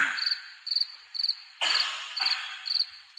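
Cricket chirping sound effect played as a comedic awkward-silence cue, with repeated steady high trills in short bursts, clear and alone with no voices.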